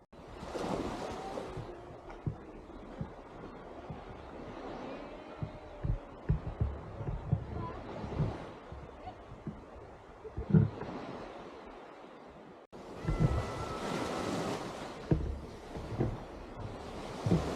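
Ocean waves wash continuously at Lawere Beach in Pinrang, with broadband surf and wind noise throughout and a brief break in the sound partway through.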